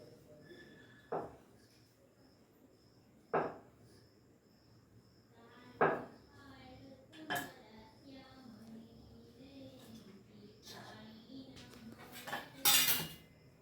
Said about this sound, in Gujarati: હવે આપણે આને કટિંગ કરી નાખશું.